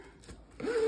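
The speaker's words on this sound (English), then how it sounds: "Zipper." A short zipper pull on a Magicycle fireproof battery bag rasps close by after a moment of quiet handling noise, rising in loudness toward the end.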